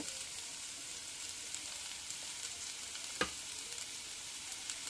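Steady soft sizzle of sweet potato curry cooking with chili powder, salt and turmeric being stirred in, with one brief utensil scrape partway through; quiet and continuous, no speech.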